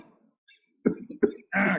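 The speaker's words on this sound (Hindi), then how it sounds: "किसी को खांसी भी आ रही है" A man in a group laughter session coughs a few times, two short close barks followed by a harsher, longer throat-clearing burst, after faint murmuring at the start.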